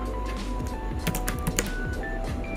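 Keyboard clicks from someone entering Java code during a programming lesson, a dense run of light taps over steady background hum with a few sharper strokes, close and fairly quiet.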